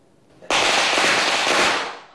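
A simulated gunshot sound is played at a political party caucus's press conference in Kaohsiung about a hospital shooting: one abrupt, loud, crackling burst that holds for over a second before fading out.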